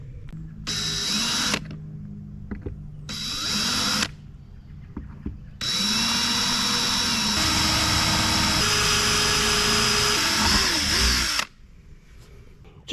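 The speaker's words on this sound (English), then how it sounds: "So we can start drilling some holes, and my favorite, drilling holes into my fiberglass boat." A power drill boring holes into a fiberglass boat hull, two short whirring bursts followed by a long steady high-pitched grind that slows near the end, close and loud, with no talk.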